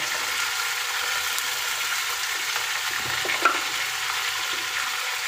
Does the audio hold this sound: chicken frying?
yes